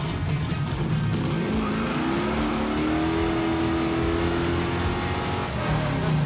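The Wreck Runner project car's engine revs loudly and continuously, its pitch climbing and holding near the top of the rev range before easing slightly, with a close, raw roar and no speech.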